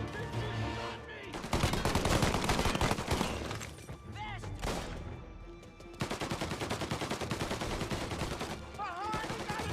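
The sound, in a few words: gunfire in the video game Mafia Definitive Edition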